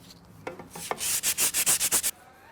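Sandpaper rubs along the limb of a wooden self bow, first a few light scuffs, then a quick run of about eight rhythmic back-and-forth strokes, close and fairly loud with no talking.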